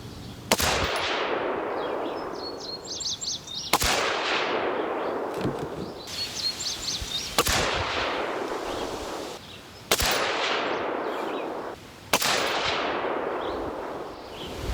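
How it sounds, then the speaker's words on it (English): Rifle shots fired one at a time with factory ammunition for a 20-round group at a range, five sharp loud cracks spaced a few seconds apart with ringing decay between. "I'm going to go ahead and do a 20 round group with the factory ammo"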